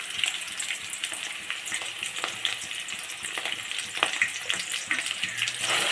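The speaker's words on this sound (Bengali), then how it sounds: "এগুলো এখন সুন্দর করে নাড়াচাড়া করতেছি" Fried onion paste and ginger-garlic paste are stirred in a hot pan, giving a loud, continuous sizzle broken by repeated scraping strokes at an uneven rhythm, up close, with no voices.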